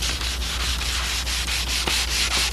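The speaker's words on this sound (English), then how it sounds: "I've sprayed my 4th coat of lacquer and I'm lightly sanding that with 320 blue paper." Sandpaper, 320 grit blue paper, lightly sanding a lacquered solid body guitar after the fourth coat, a loud, close, rhythmic scratchy rubbing of steady back-and-forth strokes.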